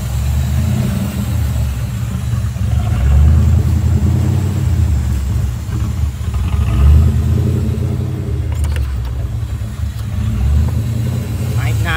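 A 1982 Pontiac Trans Am engine idles roughly, a steady low rumble with uneven surges and dips rising and falling in loudness, heard close and continuous with no talking.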